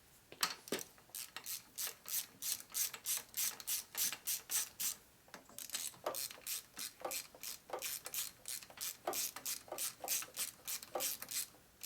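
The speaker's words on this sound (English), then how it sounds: "switch over to a little mini ratchet" A small mini ratchet wrench clicks in fast, steady bursts of pawl ticks, pausing briefly mid-way, close up and alone, as it works on fasteners during a 2001 Gilroy Indian motorcycle rebuild.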